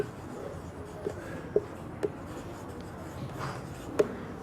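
Chalk or marker tapping and scratching on a classroom board as a teacher writes the number 82,000 in a primary-school math lesson; a few faint, sparse strokes with soft clicks over a quiet room.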